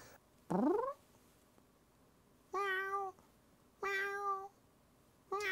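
A man imitates a cat, giving four separate meows, the first rising and short, the others longer and drawn out, with pauses between.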